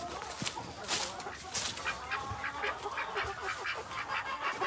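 White hackle Kelso cross gamefowl roosters and hens clucking and calling at feeding time, a dense, continuous flock chorus of overlapping squawks and clucks close by.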